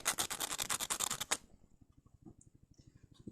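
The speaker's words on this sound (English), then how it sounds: "So you get your sandpaper or whatever, sand it down to smooth it out a bit" Sandpaper rubs briskly against the wooden bottom end of a homemade spear in a quick run of rhythmic strokes, then softer, lighter scrapes follow in a steady pulse.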